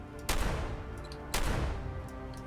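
Two loud, close blasts from the Varmint shotgun in Fallout 4, roughly a second apart, each a sharp boom with a short decaying tail.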